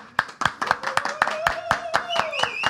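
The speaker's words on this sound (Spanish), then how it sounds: "Un aplauso, mi gente." A few people clap in a small studio booth in Miami, distinct separate claps in an uneven rhythm close to the microphone, with voices talking and whooping over them.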